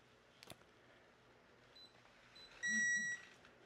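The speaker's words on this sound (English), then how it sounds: "Has a loud beep and a vibrate." A small device gives a loud, steady electronic beep lasting about half a second, close to the listener. It sits over a quiet room with a soft click heard earlier.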